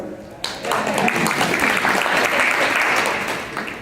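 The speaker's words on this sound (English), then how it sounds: "Women, you need to clap." Conference audience at a multicultural real estate summit bursts into applause, loud sustained clapping rising suddenly and holding steady for several seconds before tapering slightly.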